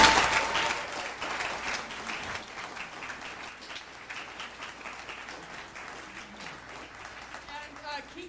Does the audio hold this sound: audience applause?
yes